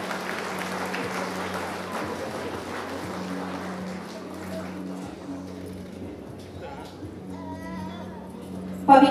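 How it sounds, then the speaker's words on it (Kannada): Applause at a government award ceremony for medal recipients, with a broad, steady patter of many hands that slowly fades. A voice speaks over it on the public address system. "ನಾಗರಾಜ್ ಗೌಡ ಅವರಿಗೂ ಸಹ ಚಪ್ಪಾಳೆ ಬರಬೇಕು"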